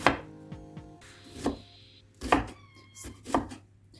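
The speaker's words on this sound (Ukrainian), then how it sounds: "Беремо одну таку невеличку цибульку посередньо і нарізаємо її на кубики." Sharp knife strokes on a cutting board while dicing a small peeled onion, a quick cluster of taps followed by several firmer, evenly spaced chops, close and clear.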